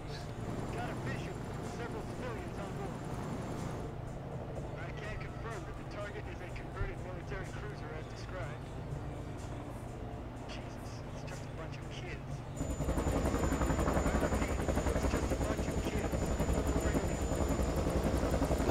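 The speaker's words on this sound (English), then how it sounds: "Hey, what is that? It's a plane!" In the horror video game Man of Medan, an airplane drones overhead as a steady low engine rumble that grows louder and fuller partway through, with voices talking throughout.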